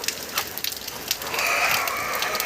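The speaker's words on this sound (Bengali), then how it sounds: "এই বৃষ্টিটা শুরু হয়ে গেছে, তো বৃষ্টির মধ্যেই উড়িয়ে দেব।" Rain patters on surfaces outdoors in a village yard, a soft scattered drizzle of drops that thickens into a steadier hiss partway through, without any voices.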